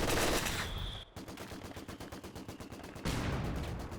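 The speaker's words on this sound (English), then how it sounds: "in comes an MG42 just in time" MG42 machine gun firing in the World War II strategy game Company of Heroes 2, a long, fast rattling burst of dense automatic shots amid other loud battle noise.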